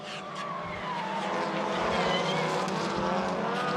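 Touring race cars from the 2015 ETCC round in Hungary scream past together wheel to wheel, a loud continuous roar of high-revving engines with shifting pitch and faint tyre noise.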